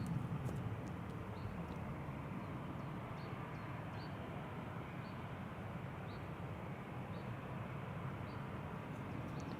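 A Delta Airlines jet departs Amsterdam Schiphol Airport as a broad, steady roar of engine noise holding at an even, moderate level throughout at a distance.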